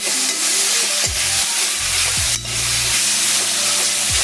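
Three small chopped tomatoes sizzle steadily in a hot cheenachatti, loud and close. A utensil scrapes through them in periodic stirring strokes, and no one speaks.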